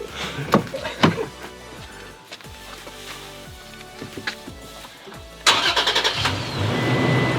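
The engine of a 2017 Toyota Tacoma, fitted with a new tune, cranks and catches after a few thumps and clicks, then settles into a steady, fairly loud idle.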